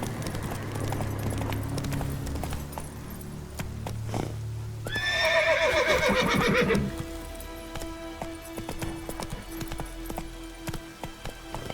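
Roach, Geralt's horse in The Witcher 3: Wild Hunt, lets out a loud, drawn-out neigh amid steady hoofbeats that clop on before and after, with no talk.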